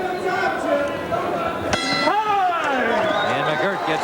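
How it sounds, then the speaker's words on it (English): Boxing ring bell ending the opening round of a professional fight. A single bright clang rings out over a commentator's continuous voice and crowd noise, then fades. "Gets the last lick right at the bell."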